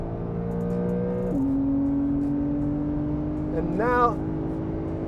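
Porsche 992 Carrera 4 and BMW M4 F82 accelerating hard side by side from about 50, with steady engine drone, a shift, then a rising rev sweep near the end; a voice talks over it.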